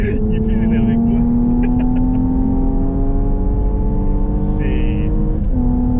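A 2018 Porsche Cayenne S E-Hybrid accelerating hard in Sport Plus mode, its engine note rising steadily and continuously through a gear change, loud and close from inside the cabin, with a voice speaking briefly over it.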